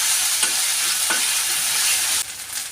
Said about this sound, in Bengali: আদা রসুনটাকে আমি একটু ভালো করে কষিয়ে নিচ্ছি